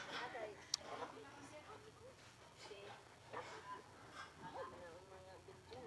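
Three puppies whimper and yip in short, faint bursts close by, with people talking over and between the little cries.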